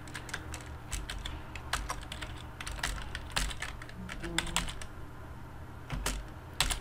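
Keys clatter on a computer keyboard in quick irregular bursts of close, crisp clicks, with a few louder presses and no talk.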